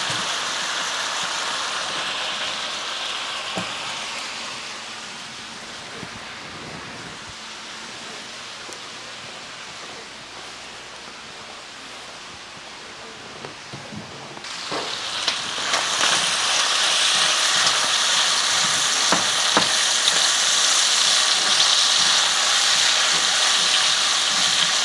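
Bacon frying in a pan for bacon and cheese potato skins, cooked indoors, giving a steady broadband sizzling hiss that swells louder and brighter partway through and holds, with no talk over it.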